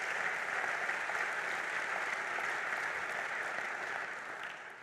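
Steady audience applause at a church denomination's general assembly, a dense even wash of many hands clapping that holds throughout and fades slightly at the end; no cheering voices stand out.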